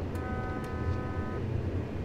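Steady electronic tones from the PZB train safety system sound in the cab of a BR 141 locomotive in Train Simulator 2018, a faint high beep over a constant low rolling rumble of the train.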